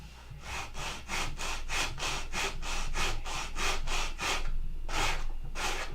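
Hand sanding on a Gen 4 horn clip makes rhythmic rasping strokes, about a dozen steady back-and-forth scrapes with a short pause before the last two, close and clear over a low hum.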